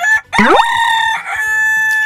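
A rooster crows loudly and close by, one long drawn-out call with a rising start and a sustained wavering end.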